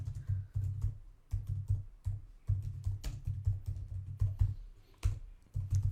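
Bursts of computer keyboard typing while entering Python code, with crisp close key clicks separated by short pauses.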